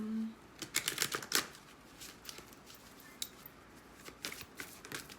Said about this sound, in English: give this another shuffle